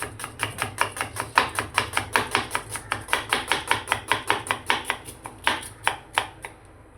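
A knife chops through onion on a cutting board in a home kitchen, with about two dozen quick, evenly spaced strokes that are close and crisp and keep a steady rhythm, with no talking.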